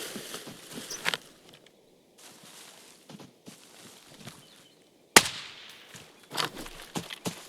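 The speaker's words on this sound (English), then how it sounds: "Heard footsteps to my" Footsteps in the tactical shooter Arena Breakout Infinite, a scattered run of soft thuds around a hotel interior with one sharp loud bang midway and sparse clicks, mostly faint and intermittent.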